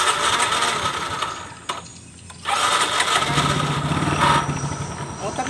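Yamaha Mio J fuel-injected motorcycle with a fault that makes it stall when ridden, its engine cranking and starting after a brief gap, then idling loudly and close.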